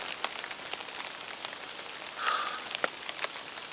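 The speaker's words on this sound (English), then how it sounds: "Hopefully this rain will stop." Steady rain patters on surfaces at a fishing lake at Aldeby Hall Fisheries, a dense close hiss dotted with sharper individual drops and no talking.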